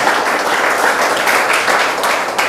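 A church congregation applauds loudly and steadily, a dense wash of clapping hands that holds for the whole stretch without pause.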